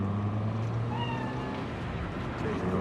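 A cat meows in the video game Cyberpunk 2077, a few short rising cries heard faintly over a constant low ambient hum, with no voices.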